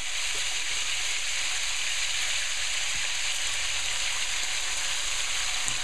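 Steak pieces brown in a frying pan for baked steak and gravy, with a steady, loud, close sizzle and spatter continuing throughout.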